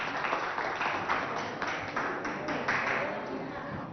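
Crowd applause and cheering at a school event in Abéché, a dense steady wash of clapping with no talk over it.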